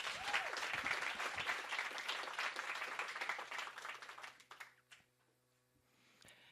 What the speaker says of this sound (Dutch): Emily Wieland nog een keer. Applaus.